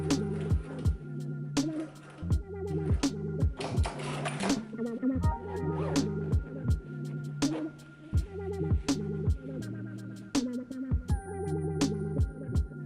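A sewing machine stitches a zipper onto a skirt in short rhythmic runs of rapid mechanical chatter, each burst stopping and restarting, close and clear with no voices.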